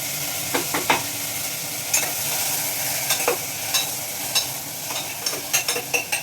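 Cucumber pieces with curry leaves and green chilies tossed into hot tempering oil in a pan: a steady sizzle and frying hiss with scattered clicks of the stirring spoon, close up and without speech.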